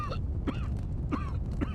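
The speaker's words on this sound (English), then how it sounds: "I could hear coughing." Someone coughs repeatedly in smoke in the video game Broken Sword 3, three or four short hoarse bursts spaced about half a second apart, faint and close over a low steady background.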